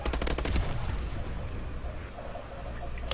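Rapid bursts of Obsidian Steed gunfire in Call of Duty: Advanced Warfare, a quick loud volley at the start, then a busy lower rumble of game noise continuing to the end.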